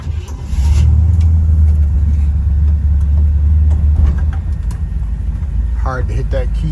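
A 1968 Chevy Impala convertible engine rumbles steadily while driving at night, a loud, continuous low drone that eases slightly near the end as a voice speaks briefly over it.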